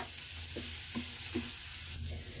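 Mashed boiled potatoes are stirred with spices in a pan, giving a steady low sizzle with three or four soft scraping strokes at an even pace, close by and without talk.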